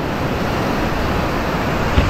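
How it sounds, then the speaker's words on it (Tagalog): Calmer sea waves wash onto the shore in a steady, broad hiss of surf with some wind noise, loud and close, ending in a brief soft thump. "Hindi na malakas yung alon."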